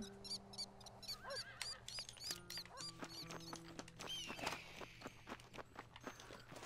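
Light, quick hoofbeats of a horse in the video game Red Dead Redemption tap along steadily at moderate distance beneath sustained musical tones, with no talking.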